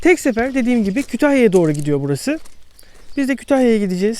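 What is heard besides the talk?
No everyday noise stands out behind the speech.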